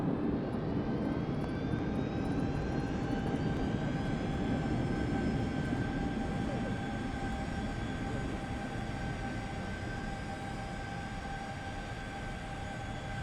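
Thrust reversers on a DC-8-71F after landing in the X-Plane 11 flight simulator: a loud, sustained engine roar with steady whining tones that eases slightly toward the end, no talk.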